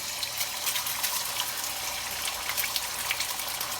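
Liquid pours steadily into a pan with a broad hissing, splashing rush that stays even throughout, close by, with no voices.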